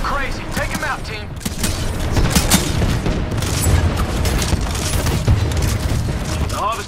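Heavy rocket blasts and booming explosions pound a harvester in a Titanfall 2 Frontier Defense match, a dense continuous barrage of impacts and gunfire with voices talking in the mix.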